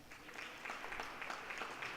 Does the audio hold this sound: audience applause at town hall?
yes